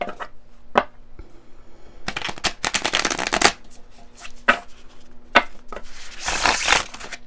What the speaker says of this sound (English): So it's still okay to shuffle.